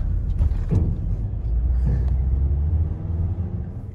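Low rumbling of a car engine driving off a ferry over a ramp, with a couple of clunks and a steady droning hum.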